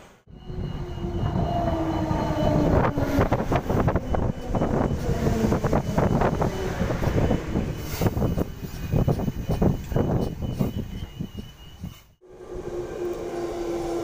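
A train pulls into a station, rumbling and clattering over the rails with rhythmic wheel thumps and a metallic squeal, loud and near, with wind buffeting the microphone.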